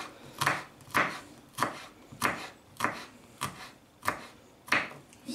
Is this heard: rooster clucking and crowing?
no